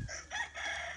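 Free-range fighting roosters at a breeding farm crow in a brief, slightly distant burst, the drawn-out call heard on its own without talk.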